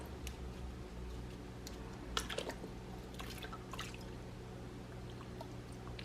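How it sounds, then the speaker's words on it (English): Water drains slowly out of handmade paper pulp, a soft run of scattered drips and small trickles over a low steady hum, fairly faint and close. "you want to try to let the water slowly drain out so that it can be as even as possible"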